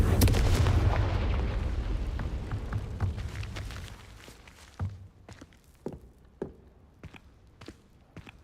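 A Confringo blasting spell explodes in the Hogwarts Legacy video game: a loud, rumbling burst that slowly decays over about four seconds, followed by scattered sharp cracks and thuds of debris settling.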